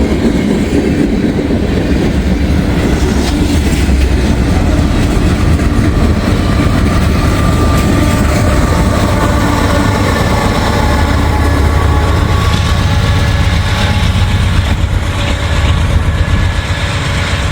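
An intermodal freight train with a distributed-power locomotive rolls past close by, a loud, steady rumble of engines and wheels with clickety-clack over the rails that holds for the whole stretch.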